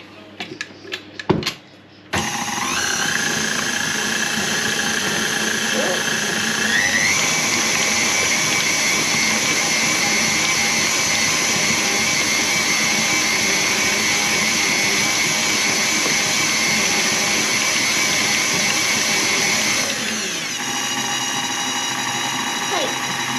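Electric mixer creaming butter and sugar for a pineapple upside-down cake, a steady loud motor whir running continuously after a brief start with a few clatters, then dropping slightly near the end.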